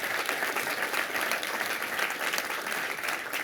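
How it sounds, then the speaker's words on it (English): An audience at a hackathon closing ceremony applauds the jury members with steady, dense clapping that holds evenly from start to finish, with no voices over it. "we can give first an applause to all of them"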